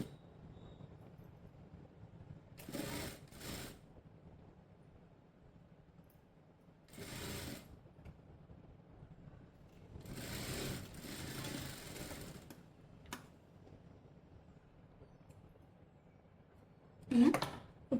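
A sewing machine stitches a blouse neck in short runs, several separate bursts of fast mechanical whirring spread across a quiet room, each lasting a second or two, with soft handling sounds between them.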